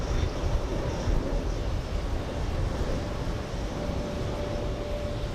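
A JetBlue Airbus A220 airliner at JFK airport gives a steady, loud broadband roar that holds evenly throughout, with no voices over it.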